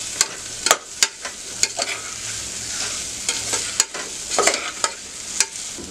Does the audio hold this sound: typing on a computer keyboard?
no